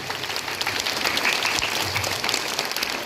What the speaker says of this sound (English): Let's give a big round of applause for our marchers who made this morning so energetic and lively.